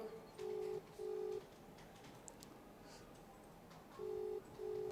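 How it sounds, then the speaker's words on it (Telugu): An unanswered phone call rings out with a faint double-pulse ringback tone: two short tones, a long pause, then two more, over quiet background. "ఇగో ఇంకా రింగ్ అవుతూనే ఉంది"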